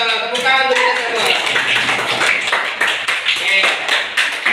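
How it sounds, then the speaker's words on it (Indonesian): A classroom of children claps together during a school lesson, a dense, loud burst of handclaps mixed with voices. "Tepuk tangan untuk kita semua"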